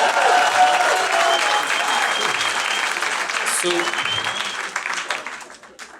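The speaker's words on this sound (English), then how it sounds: "Clap your hands if you're ready to have some fun." A comedy club crowd claps loudly at a stand-up set, strong continuous applause with some cheering, and someone briefly speaks as the clapping gradually dies away.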